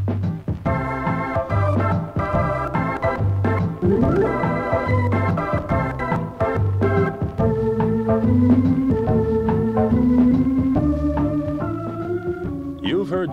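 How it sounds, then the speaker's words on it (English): Optigan optical organ music plays a bouncy tune with a steady bass pattern and sustained chords, continuing without any voices. "You've heard just a small sample of the kind of music you can play."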